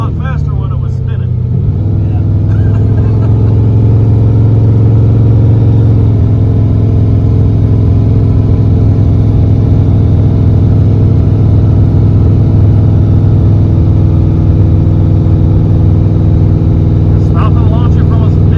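A Jeep engine revs hard at launch, a loud sustained low-pitched drone that holds steady and strains throughout, with people talking over it inside the vehicle.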